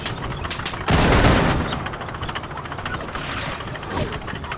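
Heavy gunfire in the WWI shooter Over The Top during an online multiplayer match, a loud rattling burst swelling near the one-second mark and then continuing as a steady crackle of shots, with no talking.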